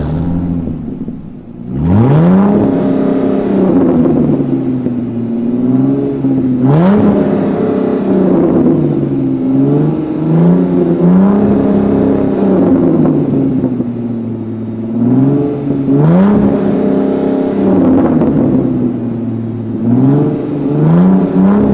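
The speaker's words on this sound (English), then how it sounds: "delivering an unmistakable exhaust note that commands attention" A Dodge Hellcat muscle car's exhaust roars loud and close, rising and falling through several strong revs with a deep, rumbling, sustained growl and no talk.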